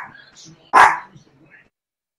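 Dogs bark in one sharp, close burst with faint yips around it, and people talk nearby.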